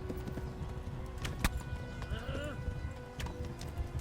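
Horse hooves clip-clop in the medieval game Kingdom Come: Deliverance, with irregular hoofbeats, a brief whinny midway and a voice talking over the scene.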